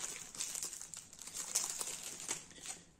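The plastic wrapper of a strawberry snack cake crinkles and crackles as it is torn open close by, a busy run of sharp rustles lasting a few seconds.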